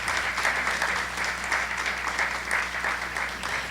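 Steady audience applause at a Mexican history forum in Tabasco, a loud, dense wash of clapping that holds evenly throughout.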